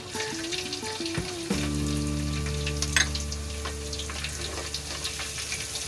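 Cloves and finely chopped ginger frying in a pan for mutton korma: a loud, steady sizzle with a low hum and a few brief clatters, close up and with no speech.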